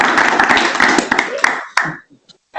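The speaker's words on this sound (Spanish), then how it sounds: "Un aplauso." Applause from the audience at a business event on Mexico–Asturias opportunities, a burst of clapping mixed with voices that cuts off abruptly midway, leaving a few scattered claps.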